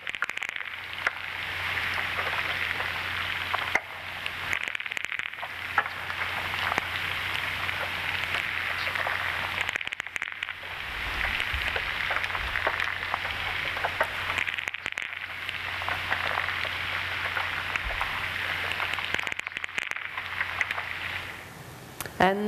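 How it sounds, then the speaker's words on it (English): Snails feed underwater in a close recording: a dense, fine crackle of tiny clicks and rasps, like light rain patter, goes on steadily with a few brief pauses. "And this is the sound of snails as they are feeding."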